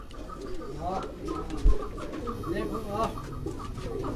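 A Tunia pigeon, a strong breed from Sialkot, coos close by in a series of soft, repeated throaty calls, with a brief knock partway through.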